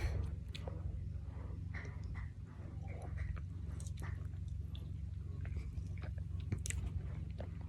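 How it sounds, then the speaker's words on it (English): Two male cats chomp and chew food in the background, soft wet crunching bites scattered through a steady low room hum, fairly faint and close. "if you hear that chomping noise in the background, I have 2 male cats."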